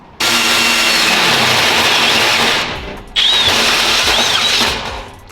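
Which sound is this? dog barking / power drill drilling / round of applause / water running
power drill drilling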